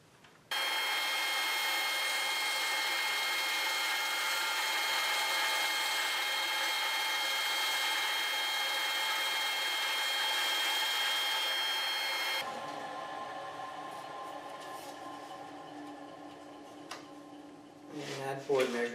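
A thin wood board, about 20 thousandths of an inch thick, being sliced by a saw from stock taped to an Accu-Slice fence carriage gives a steady, loud, high whine for about twelve seconds, then a quieter rattling run-down with a few clicks.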